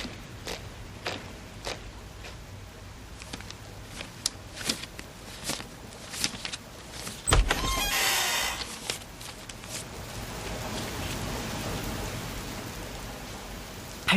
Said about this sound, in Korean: 빗소리가 집 전체에 너무 크게 울려